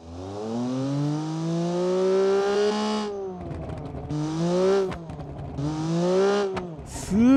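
A heavily tuned kei truck engine in an engine simulator game drones with a rough, harmonic-rich tone, rising slowly then dipping and surging in short revs before cutting off near the end.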